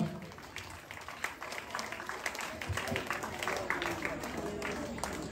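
An audience claps at a felicitation ceremony attended by students, a dense crowd applause lasting throughout while voices talk over it.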